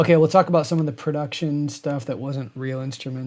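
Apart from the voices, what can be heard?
No everyday noise stands out behind the speech.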